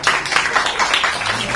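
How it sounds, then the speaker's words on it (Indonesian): A seated audience gives a burst of applause for Pak Yuga Aden at an event. Dense clapping fills the room, loud and continuous, with slight swells and no talk over it. "Tepuk tangan untuk Pak Yuga Aden,"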